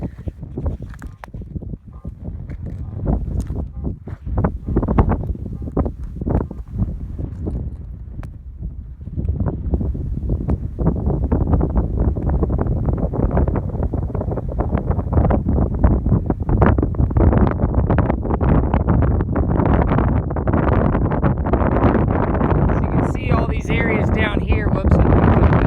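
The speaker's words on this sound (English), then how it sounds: "hope it's not too windy for you" Strong desert wind buffets the microphone at the Hauser Geode beds near Blythe, California, a steady roaring rush with gusty bursts that grows louder and denser over time.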